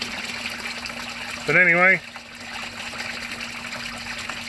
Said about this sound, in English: I think I might have too much water flowing back in.